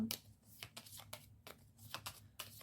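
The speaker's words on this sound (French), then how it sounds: "On va trier parce que vous avez beaucoup de cartes." Tarot cards being sorted and handled at close range, a series of crisp snapping flicks and riffling shuffles in an irregular rhythm, heard alone with no voices.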